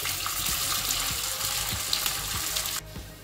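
Mixed sabudana tipped into hot oil with crackling cumin and curry leaves, a close, loud, steady sizzle with light splashy frying that drops away abruptly near the end, no voices.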